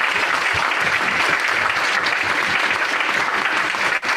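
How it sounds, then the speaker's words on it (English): Audience applause for a panel at a community conversation event on Alzheimer's, a steady, dense wash of clapping that fills the room and holds at an even, fairly loud level throughout. "Let's give this panel a round of applause."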